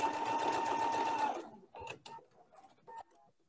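Sewing machine running steadily as it stitches fabric pieces for a tulip block pillow, a fast whirring hum for over a second, then stopping, followed by a few soft clicks and handling sounds.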